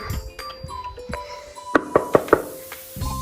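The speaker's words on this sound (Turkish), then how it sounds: "Dur önce kapıyı çalayım. Tık tık yapayım geleyim tamam mı?" Four sharp knocks on a door ring out in a quick, even sequence during a child's toy play, crisp and close, with faint toy or electronic tones in the background.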